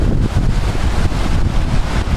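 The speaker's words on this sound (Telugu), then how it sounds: "వాటర్ చూడ ఎంత ఫోర్స్ఫుల్గా వెళ్తున్నాయో" A forceful, glacier-fed Himalayan river rushes below a bridge near Thajiwas Glacier on the Srinagar–Zojila Pass road toward Drass, producing a loud, steady roar heavily buffeted by wind on the microphone, with no voices.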